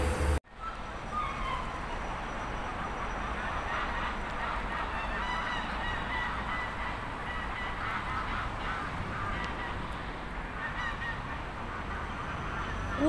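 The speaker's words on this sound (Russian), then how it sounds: "Только гусей развелось. Видите, как их много." A large flock of geese honks continuously at a park pond in Batumi, a dense, steady chorus of overlapping calls with no talk.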